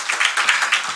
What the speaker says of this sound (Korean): 박수 한번 쳐줘야 돼.